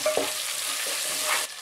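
Onion and carrots fry in a pan for vegetable pulao, a close, continuous hiss of sizzling oil with brief scraping stir sounds.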